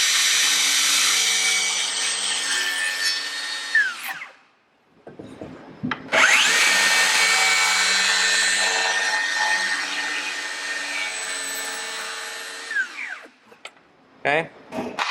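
A power saw cuts a triangular notch into a wooden stair stringer in two loud, sustained bursts separated by a short pause, ending with a few brief scraping knocks.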